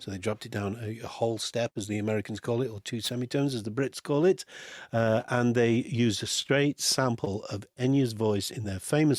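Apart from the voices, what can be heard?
No everyday noises stand out.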